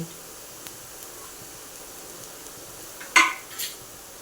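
Turmeric and red chili powder being mixed into softened onion and ivy gourd in a cooking pan. It is mostly quiet with faint sizzling, then one close, sharp scrape of a spoon against the pan near the end.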